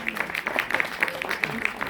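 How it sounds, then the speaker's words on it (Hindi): Brisk applause from an audience at a mushaira poetry recital in New Delhi, a dense patter of claps that stays steady and fairly loud over the short stretch. "एक बार ज़ोरदार तालियां हो जाए।"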